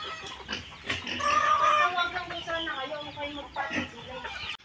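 Pigs grunt and squeal at feeding time on a small farm, with chickens clucking nearby; the animal calls are close and overlapping, rising to a loud squealing burst before settling into scattered grunts.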